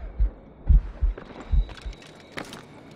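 A slowed, poisoned heartbeat in the Assassin's Creed Rogue video game: four or five deep, heavy thumps at an uneven, sluggish pace, followed by a faint higher tone and some brief sharper game sounds.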